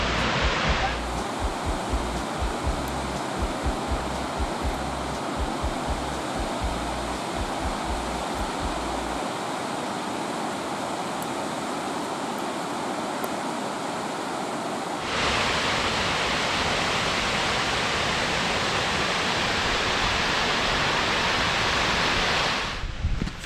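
A waterfall in Michigan's Upper Peninsula roars as a continuous broadband rush of falling water, steady throughout and swelling noticeably louder and brighter partway through, with no voices heard.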